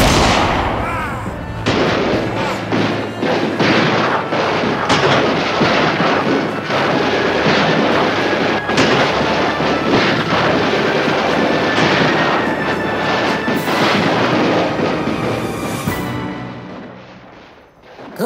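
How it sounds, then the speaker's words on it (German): Gunfire bursts through a dense, loud Western audio-drama soundscape, with sharp repeated cracks layered over a continuous rumbling mix of effects and music before it fades out at the end. "das sind Schüsse"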